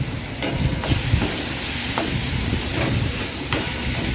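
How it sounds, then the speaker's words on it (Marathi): Soaked moong and chana dal are sautéed in a pan with a loud, close sizzle and hiss. Sharp spatula scrapes and taps recur every second or so. "आता डाळ घातल्यानंतर मिश्रण एकत्र करून परतवून घ्यायचं आहे"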